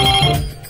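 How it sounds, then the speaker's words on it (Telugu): An office fax machine gives a short, loud electronic ring, a single bright burst that fades quickly, with no voices over it. "అబ్బా మ్యామ్, ఫోన్ లిఫ్ట్ చేయమంటారా? ఇది ఫోన్ కాదు, ఫ్యాక్స్."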